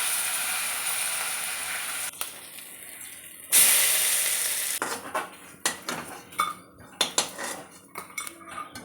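Dry red chillies and mustard seeds hit hot oil with a sudden loud hiss midway through. Sharp utensil clinks and crackling pops follow at close range, and no voices are heard.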